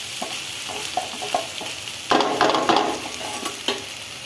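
Vegetable bhaji sizzles steadily in a pan as coriander leaves are added, a constant close fry with light stirring taps, swelling into a louder burst of scraping and crackle midway, no voices.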